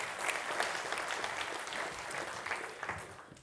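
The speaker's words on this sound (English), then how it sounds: "Round of applause." A conference audience applauds, with dense clapping from many hands holding steady for the whole stretch at moderate distance.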